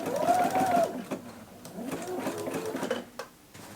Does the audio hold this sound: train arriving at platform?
no